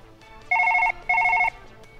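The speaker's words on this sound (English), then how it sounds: "Let's answer the phone." Telephone in Surgeon Simulator ringing with two short electronic trilling bursts separated by a brief pause, clear and prominent over quiet background.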